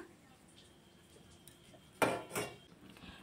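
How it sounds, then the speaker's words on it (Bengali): A metal spatula stirs spices frying in a little oil for a rohu fish and potato curry, mostly quiet with a faint hum, then two sharp clattering scrapes against the pan near the end. "ফোড়নটা একটু লাল লাল হওয়া পর্যন্ত খুন্তি দিয়ে এভাবে একটু নাড়াচাড়া করে নেব"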